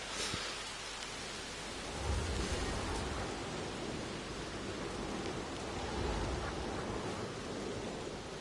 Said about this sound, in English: Storm is going on.